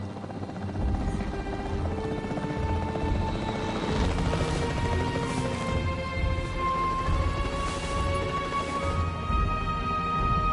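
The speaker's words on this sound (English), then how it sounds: "The priority needs to be tranquilizing it with the capture team chopper." The capture team helicopter in Jurassic World Evolution 3 flying overhead, a steady rotor thrum and engine whine holding loud and near throughout, layered with game music or ambience and no talk.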